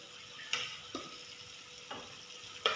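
Chicken is stirred into a frying pan while macaroni is being made: soft spoon scrapes and light knocks over a faint, steady sizzle, quiet and close.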